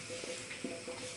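Fat sizzles steadily in a pan as lard fries, with a few soft stirring scrapes breaking through the crackle.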